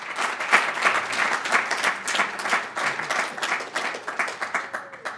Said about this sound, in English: And let's get a big round of applause.